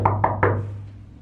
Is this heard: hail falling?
no